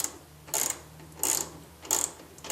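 Three short ratcheting bursts, evenly spaced about every seven tenths of a second, as a hose clamp is cinched tight on the throttle body of a 2016 Dodge Charger Scat Pack 6.4L during a cold air intake install; close and moderately loud.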